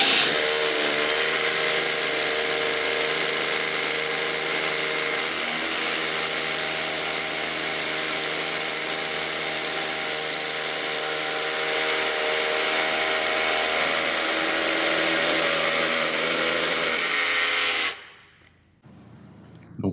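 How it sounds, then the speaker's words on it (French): Festool BHC 18 cordless rotary hammer boring a 12 mm hole, a loud, steady high-pitched whir and hammering drone running unbroken for about eighteen seconds before stopping abruptly into near silence. "Donc voilà pour ce chevilleur, le BHC 18 de chez Festool."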